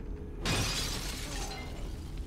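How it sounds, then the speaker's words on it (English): Glass shatters suddenly as it catches fire in the horror video game The Evil Within, a loud crash that bursts in and then hangs as a dense, sustained crackling wash of falling shards and flame. "I like how the glass shatters as soon as it catches fire."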